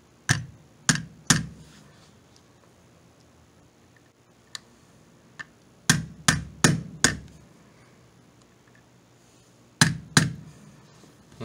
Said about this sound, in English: and hammering it into place.